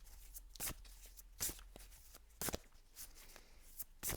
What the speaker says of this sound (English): I'm shuffling the cards backwards, but that's okay.